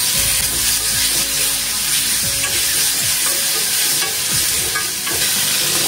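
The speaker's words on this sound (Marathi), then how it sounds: "टोमॅटो टाकून घेऊया आणि छान परतूया" Tomatoes with turmeric and hing sautéing in a pan, a loud, dense, close sizzle with a busy crackle and occasional scraping and clinking of a spatula, no voices.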